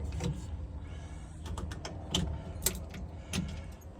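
Electric fuel pump on a purple Meyers Manx VW dune buggy during a wiring harness test, running with a steady motor whir and a few sharp clicks and ticks scattered through it.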